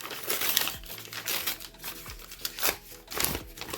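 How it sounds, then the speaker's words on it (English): A paper popcorn bag being cut and handled, crinkling and rustling loudly up close in repeated bursts, with no voices. "I'm going to cut it on the back."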